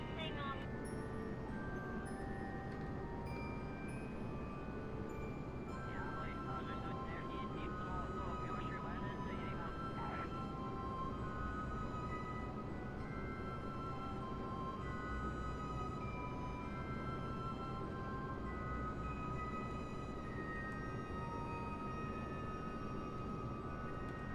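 Rocket engines roar at full thrust in Kerbal Space Program, a continuous, quiet, low rumbling drone with a brief higher tonal layer early on. Speech is heard over it.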